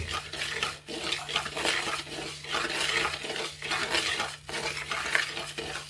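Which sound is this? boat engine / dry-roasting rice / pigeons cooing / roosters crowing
dry-roasting rice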